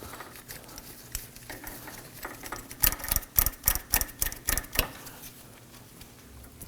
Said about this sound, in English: We're now going to use our inner tie rod removal tool.